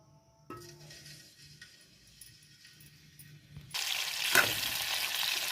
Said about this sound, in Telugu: ఇది బాగా ఫ్రై చేసుకుందాం.